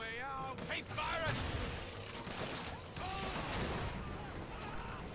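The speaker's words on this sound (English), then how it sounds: "those rockets that are already shooting at me" Rockets and gunfire in the BioShock Infinite shooter game, a dense, crackling barrage of blasts and mechanical clatter that continues throughout, with a voice talking over the din.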